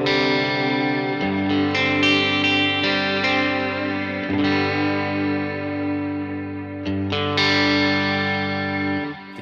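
Electric guitar through a big, stereo reverb preset on a Fender Tone Master Pro processor, sustained distorted chords washing into long, shimmering tails, with fresh strums cutting in twice and no voice.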